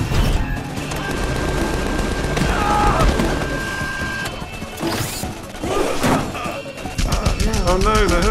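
Gunfire and crashing impacts in the video game Tales From The Borderlands, a dense, loud barrage of shots and smashes heard under intermittent talk.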